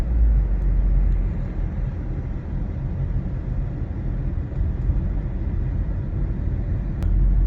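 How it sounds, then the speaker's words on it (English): Ford Focus with a faulty gearbox driving along, a steady low engine and road rumble filling the cabin at constant loudness, with a brief click near the end. "riding along in this beast, gearbox is not happy"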